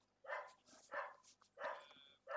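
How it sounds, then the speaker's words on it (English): A dog barks repeatedly in the background during a live coding session, four bursts of sharp, mid-loud barks spaced roughly half a second apart, alone without talk. "My dog's barking."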